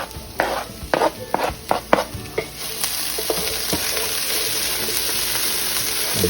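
Sausage and potatoes frying in a pan are stirred, giving several sharp scraping strokes over the first two seconds before a steady, close sizzle takes over and carries on alone.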